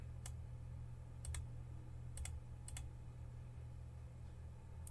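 Computer mouse clicks while modeling in Blender, a few faint sharp clicks, some in quick pairs, over a low steady hum.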